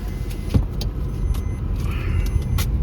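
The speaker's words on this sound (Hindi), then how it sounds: "ये दूसरी गाड़ी जा रही है साथ में" A car rolls along a road during Holi travel, giving a steady close rumble of engine and tyres with a few sharp rattles and clicks on top, and no talking.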